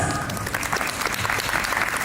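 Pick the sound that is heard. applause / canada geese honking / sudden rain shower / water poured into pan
applause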